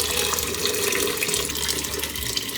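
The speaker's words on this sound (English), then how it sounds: "top both of these pots up with some water" Tap water runs in a steady, close hiss while topping up two soup pots in a home kitchen, continuous throughout with no speech.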